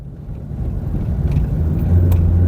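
Car with a semi-automatic gearbox in manual mode idling with its engine running, a steady close rumble that swells slightly louder toward the end as the gearbox tries to engage first.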